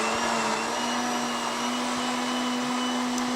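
An electric mixer whirring through crepe batter made with sugar, a steady, loud motor drone with a constant pitch that runs unbroken for the whole stretch.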